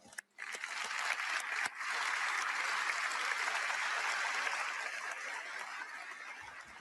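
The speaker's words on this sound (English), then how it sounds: "a warm round of applause" An audience at a White House Medal of Honor ceremony for the Artemis II crew applauds NASA staff. The clapping swells in quickly after a short pause and holds as a steady, even wash that eases slightly toward the close.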